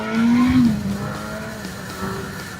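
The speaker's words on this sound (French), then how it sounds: "Accélérer, freiner, accélérer, freiner, accélérer, freiner, accélérer, freiner." A motorcycle engine revs up and eases off in a sustained, loud rise and fall, heard close by without talk.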